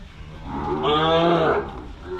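Thai cows at a cattle market give one long, loud, close moo that swells and fades, over the steady background murmur of the market.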